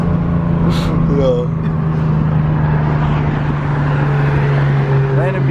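A single-turbo BMW 335i drones steadily nearby, its engine tone holding under loud chatter from people talking over it, with brief whooshing bursts that fit a loud wastegate venting.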